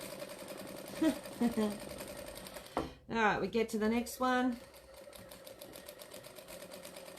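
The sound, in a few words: sewing machine stitching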